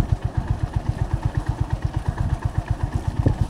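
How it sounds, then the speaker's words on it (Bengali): Honda CB350 RS motorcycle engine pulling in second gear on a ride in light rain, a steady rapid low thump of firing pulses throbbing evenly and close throughout, with no voices. "শুরুতেই এখানে 2 নম্বর গিয়ারে চালাচ্ছি এই CB 350 RS-এ"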